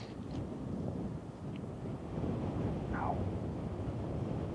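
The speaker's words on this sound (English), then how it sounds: "There's a lot more wind here today than I've played in Arizona" Strong wind gusting across a golf course during a pro tournament, a soft steady rush buffeting the microphone, faint and continuous with no voices.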